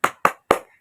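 Three sharp hand claps in a steady rhythm, close and distinct with brief silences between, part of a classroom clapping chant.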